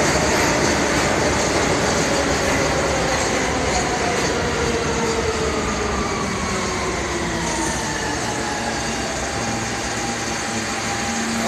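A New York City subway train runs continuously with a loud, steady rumble, rattling wheels and faint squeals from the rails over the whole stretch, with no voices.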